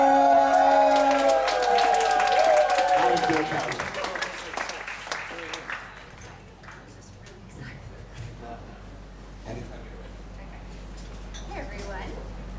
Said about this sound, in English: let's give a warm of applause for